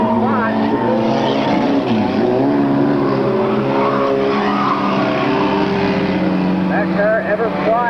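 A race car roars loudly down the straightaway, with tire squeal and engine noise throughout, while a commentator talks over it.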